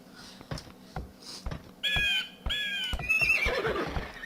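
Horse neighing in the strategy game Age of Empires II: a loud, shrill whinny rises and wavers for over a second, followed by a second neigh, amid quick clip-clop taps and busy in-game sound effects, with no talk.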